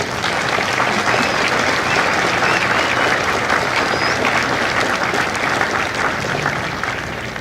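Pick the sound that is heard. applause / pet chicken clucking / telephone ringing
applause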